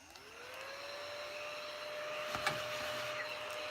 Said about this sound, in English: He's a little vacuum cleaner.